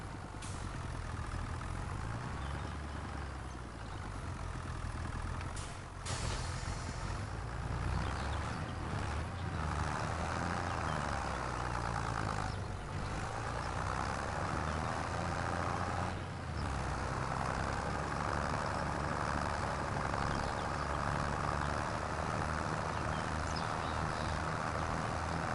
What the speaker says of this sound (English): So let's get this tractor for now.